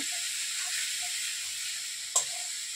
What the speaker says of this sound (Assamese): মছলাখিনি ভালদৰে ভাজি হৈ আছে।